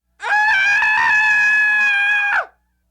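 A single loud, sustained scream, high and strained, holds for about two seconds before cutting off abruptly into silence.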